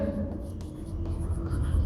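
Chalk or marker writing on a classroom board during a maths lesson on sets, a steady run of scratchy strokes with short pauses, fairly close and alone over a low room hum.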